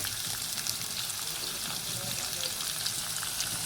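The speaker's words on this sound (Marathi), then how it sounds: "चांगला कांदा भाजून द्यायचा." Onion frying in oil with garlic and coconut, a steady broadband sizzle held at an even level throughout, with faint stirring and possible background voice.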